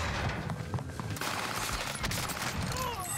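Dense gunfire in a Call of Duty Warzone Resurgence match on Rebirth Island, with an enemy firing through walls; a steady fusillade of overlapping shots fills the whole stretch, with a voice faintly underneath.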